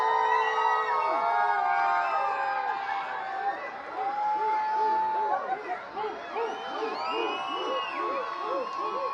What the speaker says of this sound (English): Crowd making some noise here.